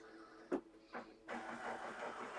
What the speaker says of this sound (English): My printer just started going off for no reason.